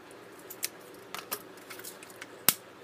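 Scissors snipping excess ribbon on a fabric flower tiara, a few quiet scattered clicks and rustles followed by one sharp, louder snip near the end, no voices.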